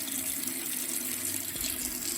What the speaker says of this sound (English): We'll be back right as the water gets hot and filled.